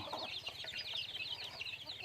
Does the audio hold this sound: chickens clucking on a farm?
yes